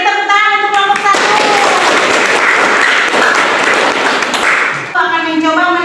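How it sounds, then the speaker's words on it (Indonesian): A classroom group breaks into loud, close applause lasting about four seconds, bracketed by a teacher's voice before and after the clapping. "Beri tepuk tangan untuk kelompok satu."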